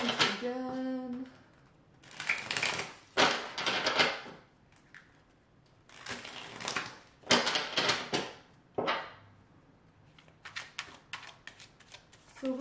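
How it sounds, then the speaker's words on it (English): Tarot cards are shuffled by hand in quick bursts, crisp riffling flutters separated by short pauses, close and fairly quiet in a calm room. "Quick shuffle once again."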